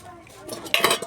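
A spoon tips half a spoonful of baking soda into Christmas cake batter, giving a short scrape and a few clinks of metal on a bowl, close and fairly loud near the end.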